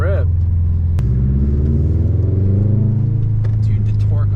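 A Subaru STI turbo car accelerates, its engine droning low and steady as it pulls, heard from inside the cabin with people talking over it.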